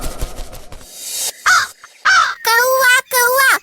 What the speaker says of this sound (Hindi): कौआ कौआ माँ कौआ।